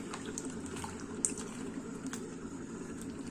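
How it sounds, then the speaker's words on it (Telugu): Water runs steadily as toor dal (pigeon pea lentils) is washed in a kitchen, a faint, continuous trickle and splash heard alone at low level. "కందిపప్పు కడిగి ఒకసారి ఒకసారి కందిపప్పు కడుక్కొని మళ్ళీ రెండోసారి పోసుకొని"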